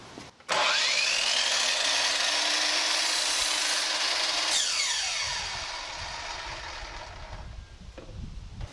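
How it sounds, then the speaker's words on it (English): A miter saw spins up with a rising whine and slices through a rough 1x2 wooden board, giving a loud, steady cutting roar for several seconds before the motor winds down and the blade coasts to a stop. "I'm just going to cut these into approximately 16-inch lengths on the miter saw."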